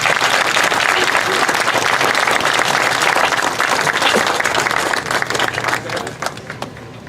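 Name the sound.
applause at a ceremony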